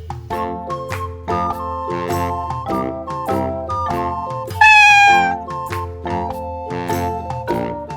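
Cartoon cat meowing once, a bright, rising-and-falling meow, loud and close, cutting across cheerful tinkling children's music in an animal colouring and drawing activity.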